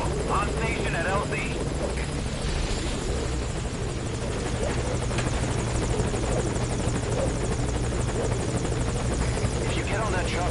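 A helicopter in the video game Metal Gear Solid V: Ground Zeroes thrums steadily and loudly from start to finish, its dense rotor and engine noise filling the scene, while voices talk over it.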